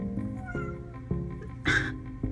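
A house cat meows several times in quick succession, close and fairly clear, with one louder, higher cry near the end and no talking over it.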